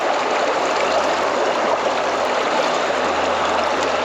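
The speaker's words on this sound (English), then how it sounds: "pour in 2 cups of water." Water poured from a container to brew coffee on a small cheap camping stove, a loud, close, unbroken splashing stream lasting the whole moment with no voices.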